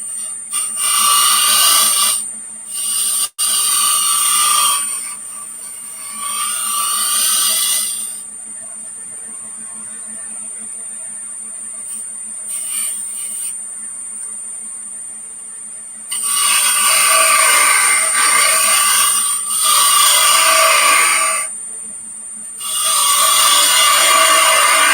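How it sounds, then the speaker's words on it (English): Wood lathe turning a bowl while a bowl gouge's wing makes shear-scrape cuts, loud hissing bursts of cutting that come and go over a steady whining motor, with a long quieter stretch in the middle and no talking. "I'll do a little shear scrape with the wing and clean up the corners."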